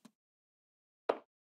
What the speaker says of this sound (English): Currently, this woodblock only sounds like this.